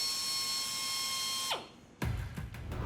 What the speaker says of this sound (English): The pneumatic drill delivers a hard turning action.